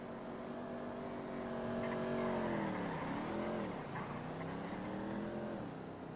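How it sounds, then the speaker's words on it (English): Car engine revving and moving nearby in a roleplay game, a moderately faint motor whose pitch rises, dips and climbs again over several seconds, with a brief tire squeal and no talking. "I can hear that the cop car is still in the area"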